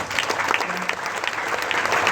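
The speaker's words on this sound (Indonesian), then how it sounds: "Kasih tepuk tangan Allah kita." Steady, dense applause from a large church congregation at a revival service, continuous and fairly loud for the whole stretch with a faint murmur of the crowd beneath.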